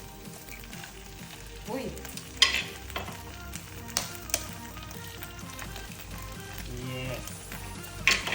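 Egg frying in a hot pan for a low-carb burger, a steady crackling sizzle with scattered sharper pops and stirring, while a person talks briefly over it.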